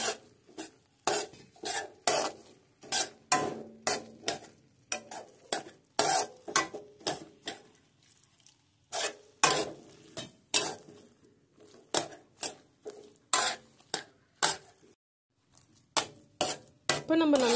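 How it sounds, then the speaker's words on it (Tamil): A spoon scrapes and stirs a thick mixture in a pan as milk is poured in a little at a time, giving repeated rhythmic scraping strokes with brief pauses, close and fairly clear, with faint sizzling underneath. "பால் கொஞ்சம் கொஞ்சமாக ஊற்றி கலரி விடுங்க."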